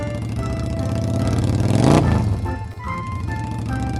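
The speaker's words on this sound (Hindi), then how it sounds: "वह अपनी बाइक का हॉर्न का बटन नंबर 2 दबाता है।" A magical bike horn in a Hindi comedy cartoon plays sustained, musical tones like a jingle, with a loud whooshing swell near the middle before the tune carries on.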